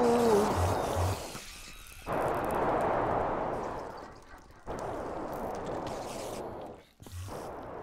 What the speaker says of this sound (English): That fucking explosion scared me, by the way.